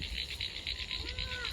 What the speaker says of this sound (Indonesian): Suarane kodok.